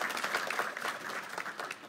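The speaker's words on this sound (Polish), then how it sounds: "Proszę o brawa." An audience at a youth city council debate in Płock claps in a brief, even burst of applause from a modest crowd, with no talk over it.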